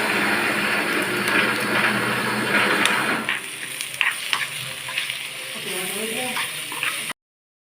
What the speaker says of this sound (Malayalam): പിന്നെ നമ്മൾ ഇഞ്ചി, വെളുത്തുള്ളി, പച്ചമുളകെല്ലാം അരച്ച് പേസ്റ്റ് ആക്കാനുണ്ടായിരുന്നത്. എന്നിട്ട് ആ ഉള്ളി വാട്ടാൻ വെച്ച ഉള്ളിയിലേക്ക് ഇട്ട് കൊടുക്കുകയാണ് ചെയ്തത്.